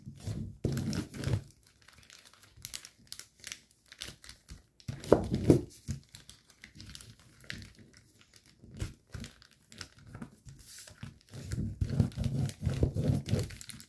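Paper crinkles and crumples in bursts as it is folded and unfolded for an origami helicopter, with quiet pauses between the handling sounds, close and soft.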